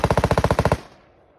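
A rifle fired at an outdoor shooting range lets off a rapid, evenly spaced string of about a dozen loud, close shots in under a second, followed by a short fading echo.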